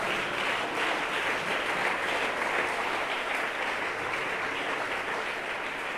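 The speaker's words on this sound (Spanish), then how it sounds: "Alguien puede aplaudir su nombre." A church congregation applauds during a pastor's sermon, a thick, even roar of clapping from a large crowd that holds steady without pause.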